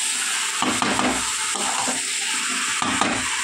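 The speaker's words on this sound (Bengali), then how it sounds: "মাংসর মধ্যে দিয়ে একেবারে ভেজে কষিয়ে নেব।" Country chicken meat fries in hot oil with chili powder, a dense continuous sizzle broken by repeated scraping stirs of a spatula in the pan, close and loud.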